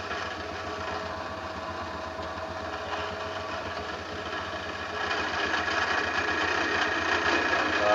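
A simple machine cuts valve recesses into a Vario scooter piston, giving a steady, moderately loud mechanical whir that grows a little louder partway through.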